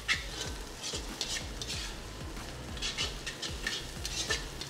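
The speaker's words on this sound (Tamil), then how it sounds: "பீன்ஸ் நல்லா ஃப்ரை ஆயிடுச்சு" Green beans frying in a pan for rava kichadi, with a steady close sizzle and a regular rhythmic scrape of a spoon stirring through them, no voices.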